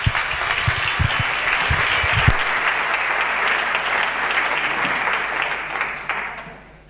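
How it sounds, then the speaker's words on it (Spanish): Audience applause at a lecture on Romani history, a dense steady clapping that opens with a few loud claps, holds evenly for several seconds, then fades out toward the end. "Un aplauso, por favor."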